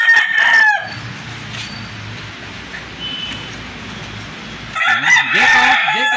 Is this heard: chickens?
yes